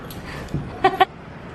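A young German Shepherd puppy gives two short, high yips in quick succession after a faint whimper, close by in a quiet room.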